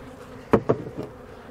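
Honeybees buzz around an open hive during a beekeeping inspection, with a few sharp close passes of bees flying near and a low hum running underneath.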